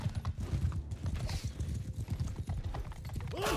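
Horses gallop in a steady, dense clip-clop of hooves in the medieval battle game Mount and Blade 2 Bannerlord, loud and continuous with the rumble of a cavalry charge and no talk.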